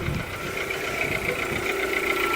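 A low-mileage Volkswagen Polo Limited Edition engine idles just after start-up, a steady, even hum with a faint mechanical tick running through it, close and constant with no revving.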